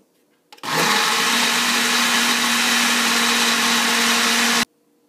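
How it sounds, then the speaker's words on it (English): A kitchen blender purees roasted garlic and roasted pepper hummus, starting abruptly and whirring loudly and steadily for about four seconds before cutting off. "And now we're going to blend it up."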